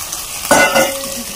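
Chicken dropped into a hot pan and stirred, giving a sudden clatter followed by a brief sizzle and the scrape of a utensil, close and fairly loud.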